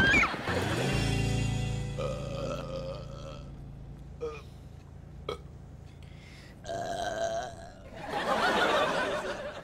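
A long, loud, deep burp opens the passage, and a few shorter bursts and some chuckling sounds follow, all close and clear in a quiet room.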